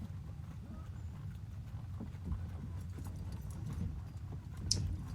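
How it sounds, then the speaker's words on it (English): Hooves of a ridden horse cantering over grassy ground near earthen mounds, a soft, steady rhythmic clip-clop at close range with quiet wind and faint background noise. "So I will canter over to the mounds and ride around one of them."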